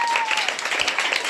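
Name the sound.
audience applause for a girl after a school play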